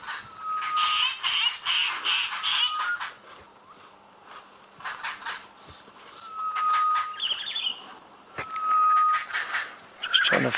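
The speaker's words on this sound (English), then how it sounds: "You can hear the birds." Agitated birds call repeatedly in thick trees while chasing a bush baby, with bursts of sharp chirps and whistled notes in clusters, fairly close and loud, separated by short quieter gaps.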